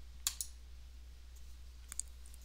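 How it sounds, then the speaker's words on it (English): A few quiet, sharp mouse clicks over a faint steady hum, heard in isolated pairs near the start and again later, while the Save button is pressed in QuickBooks Online. "So I'm going to click Save"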